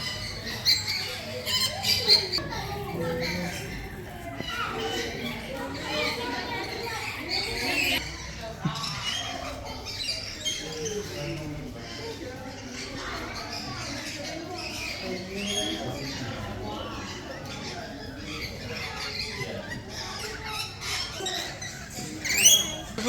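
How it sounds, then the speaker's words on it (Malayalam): Busy aviary chorus of many kinds of birds squawking and chirping continuously at a safari park, with people talking intermittently nearby. "എല്ലാ വെറൈറ്റി ബേർഡ്സ് ഉണ്ട് ഇവിടെ"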